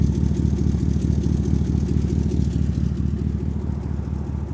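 A 1958 Corvette restomod on an Art Morrison chassis idles with its LS3 V8, a loud, close, deep and steady burbling rumble with a lumpy exhaust pulse and no voices.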